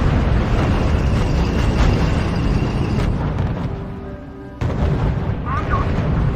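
Artillery fire in the strategy game R.U.S.E., heavy booming blasts and bursts that roll on continuously, with a brief drop before another loud impact near the end.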